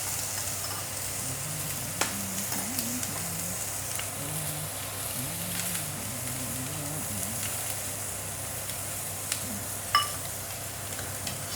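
A fish head fries in a pan for a soup with tofu and salted vegetables, giving a constant low hiss and sizzle with a couple of sharp clinks and a faint low murmur beneath.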